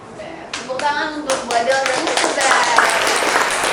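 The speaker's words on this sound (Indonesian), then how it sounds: "Tepuk tangan untuk Bu Adel dan Mr. Bems." Hand clapping breaks out on a school student-council podcast, starting with a few scattered claps and building into loud, dense applause close to the microphone, with some voices mixed in.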